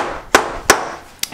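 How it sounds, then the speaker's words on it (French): Hammering in the background of a family home kitchen, three sharp metallic blows ringing out loud and clear at irregular intervals, with no voices over them. "sous un fond de marteau"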